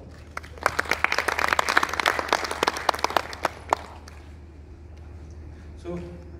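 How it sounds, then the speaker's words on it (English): Brief audience applause at a talk on Motor Vehicle Act revision, distinct individual claps from a modest crowd, loudest early and thinning out after a few seconds into quiet room noise and a short voice at the end. "a big round of applause."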